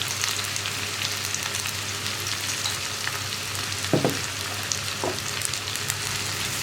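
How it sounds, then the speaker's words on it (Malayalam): Onions fry in a pan while being stirred, a dense, even sizzle throughout with a couple of brief scraping knocks of the spoon, loud and close, with no talking. "സവോള നന്നായിട്ടൊന്ന് ബ്രൗൺ കളറായി വരുന്നത് വരെ ഇളക്കി കൊടുക്കണം."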